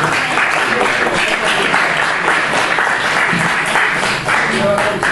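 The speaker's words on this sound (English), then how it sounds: "God, you're clapping about a miserable Christmas, dear me." Loud, dense clapping from a live audience at a rock gig in Liverpool, a continuous wash of applause that barely dips near the end.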